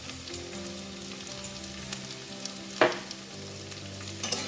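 Half-crushed peanuts stirred into sago pulao frying in a pan, a soft steady sizzle with intermittent scraping stir strokes, close and with no talk.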